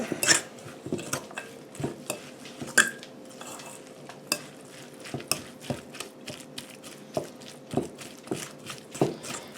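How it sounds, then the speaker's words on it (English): Canned solid white albacore tuna is stirred with sweet relish in a bowl, with repeated close scraping and clinking of a utensil against the dish in an uneven rhythm. "All we got to do is get all this all mixed up."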